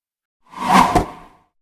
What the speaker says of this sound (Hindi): वह बिना विलंब उस असुर पर तीर चला देते हैं